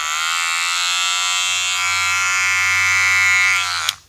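A Wahl Cordless Detailer Li trimmer runs with its guard off, a close, steady buzzing whine that rises slightly in pitch before cutting out with a click near the end.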